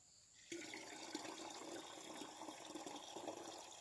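Water from a tap suddenly gushes into a container being filled with plain water for mixing rubber-coagulating acid, a steady close splashing rush that starts abruptly after a brief pause and continues unbroken.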